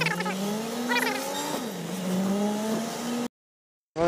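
Car engine rising and shifting through gears as the vehicle pulls away with a passenger aboard on the road toward Gandarbal, a steady close drone with harmonic sweeps before cutting out abruptly.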